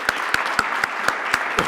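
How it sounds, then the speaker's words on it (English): Evenly spaced sharp claps at a college arts and culture event, seven crisp strikes in a steady quick rhythm, close and fairly loud with nothing else behind them. "applaud Professor Blackman for his dexterity, his expertise."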